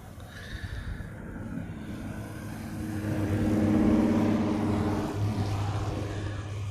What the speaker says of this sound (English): So that plane I heard over my head was another Patrick. Another United 777.